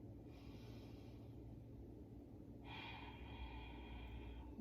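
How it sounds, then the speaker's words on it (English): Two slow, audible breaths, a long exhale followed by another drawn breath, alone and fairly quiet with no talking. "Maintain that nice balanced breathing."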